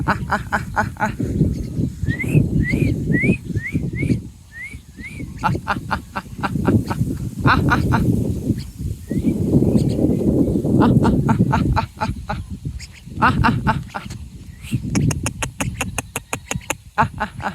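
Pet myna birds calling from a tree, a run of short rising whistled notes and chattering calls over a loud, close voice that talks almost throughout.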